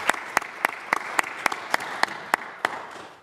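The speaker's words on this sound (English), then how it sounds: "We have a round of applause for Sean." Sparse applause at a city council meeting, with roughly ten distinct, sharp claps spaced about a third of a second apart over a steady room murmur, slowing and fading at the end.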